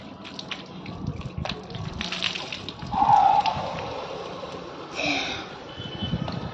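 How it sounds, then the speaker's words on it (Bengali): A child splashes water while bathing on a rooftop, with gushing and splashing bursts that swell midway and again near the end, close by, amid faint background voices. "জল ছিটানো যাবে না মা, ক্যামেরায় জল চলে যাবে"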